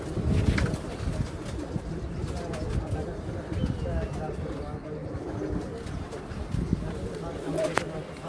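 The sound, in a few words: pigeons cooing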